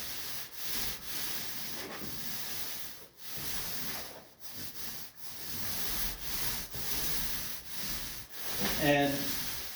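Paint roller spreading paint across an interior wall, a steady close rubbing texture with repeated back-and-forth strokes and brief pauses between passes, a little louder near the end.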